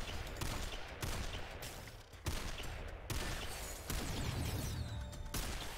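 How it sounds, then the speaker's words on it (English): Enemy gunfire in the video game SYNTHETIK, loud repeated volleys of shots in dense bursts, with several abrupt onsets over a continuous din of fire. "he was actively firing them at me at the moment, and I was intimidated"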